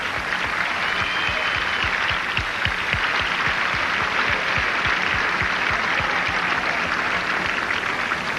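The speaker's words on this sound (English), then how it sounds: "how about a nice round of applause for all our champions that played today?" An outdoor tennis crowd at a kids' day event applauds its champions, steady full clapping from a large audience with a rhythmic low thumping running beneath it and no talking.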